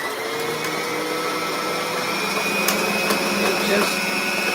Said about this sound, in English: puts the thread onto the bobbin.